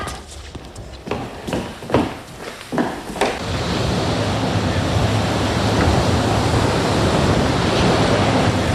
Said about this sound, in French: La mer est déchaînée